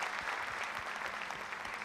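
A television studio audience applauds for a singer, a dense, even roar of many hands clapping that stays steady and fairly full throughout, with no voices standing out.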